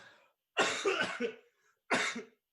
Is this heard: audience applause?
no